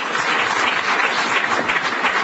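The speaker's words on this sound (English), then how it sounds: "You don't need to clap." Lecture audience applauding during a talk in the Slavery to Freedom series at Michigan State University, a dense, steady wash of many hands clapping at close range for the full stretch, with no voices over it.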